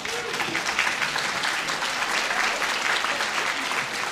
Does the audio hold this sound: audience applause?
yes